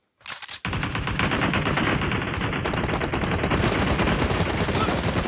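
PUBG Mobile video game gunfire: after a couple of separate shots, a continuous rapid automatic burst runs loud and close for several seconds without a break.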